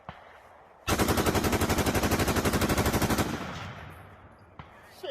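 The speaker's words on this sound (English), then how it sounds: "I heard this full auto thing has a lot of recoil." A full-auto firearm fires one long, rapid burst of evenly spaced shots lasting about two and a half seconds. It is loud and close, followed by a fading echo and one faint later thump.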